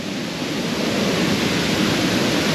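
River water at Janjske otoke in Šipovo rushes loudly and close, a dense, unbroken roar of churning flow with no pauses and no voices over it.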